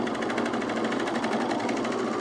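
A home sewing machine stitches steadily at close range, its rapid even needle rhythm running continuously without pause and with no talking.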